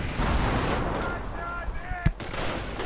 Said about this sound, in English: Grenades getting exchanged.